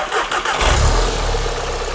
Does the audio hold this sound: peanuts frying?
no